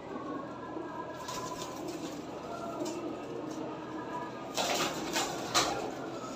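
Champion pigeons in Karachi coo and flutter against a steady outdoor rumble, with a few brief bursts of wing flapping toward the end.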